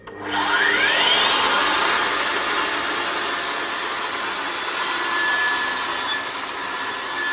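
A Mafell Erika 85 saw spins up and makes its first cut in wood, a loud steady whine with a broad rasp that holds for several seconds without any talk.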